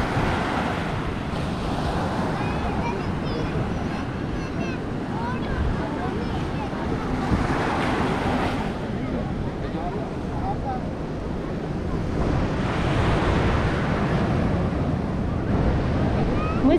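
Sea waves roll in at Kovalam beach in Kerala, where fishing boats sit near a lighthouse, a continuous low wash of surf swelling every few seconds under wind buffeting the microphone, with people talking in the background.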